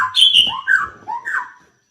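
A songbird sings loudly and close, a short burst of bright whistled and warbled phrases rising and falling, alone and clear for under two seconds.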